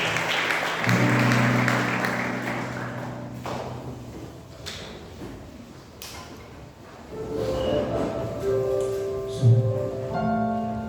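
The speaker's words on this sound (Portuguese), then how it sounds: "aplauda ao Senhor bem forte" A church congregation standing and applauding during an anniversary service, a broad wash of clapping mixed with sustained keyboard-like musical tones, dipping midway and swelling again toward the end.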